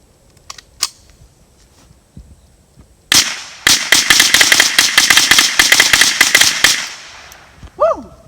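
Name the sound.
Franklin Armory 10/22 rifle rapid fire with binary trigger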